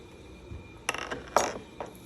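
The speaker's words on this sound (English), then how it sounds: "I'm using one of these right here to loosen these bolts." A hand wrench loosens bolts on the gauge and knife of a vintage plow: three short bursts of metallic clicking and ratcheting, close up and fairly quiet, with pauses between them and no talking.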